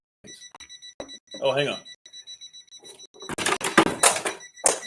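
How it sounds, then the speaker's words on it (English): An alarm clock goes off in a studio setting, its beeping tone repeating in short regular bursts before people talk loudly over it. "It's an alarm."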